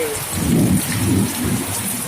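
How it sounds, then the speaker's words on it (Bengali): Heavy rain pours down in a dense, steady hiss, with a low rumble swelling briefly beneath it. "কত জোরে বৃষ্টি এসছে"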